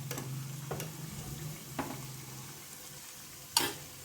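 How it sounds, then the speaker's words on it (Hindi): Veg lollipops turned over and shallow-fried in a pan on a low flame, giving a soft steady sizzle with a few brief scraping and clinking touches, the sharpest one near the end, and no voices. "इसे उलट पुलट करते हुए हम सेक लेते हैं।"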